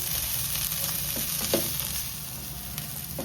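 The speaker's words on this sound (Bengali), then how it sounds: "আমার চালটা সুন্দর ভাজা হয়ে গেছে" Rice for pea pulao fries in a pan with a dense, steady sizzle that holds evenly throughout, broken by a few faint clinks and no voices.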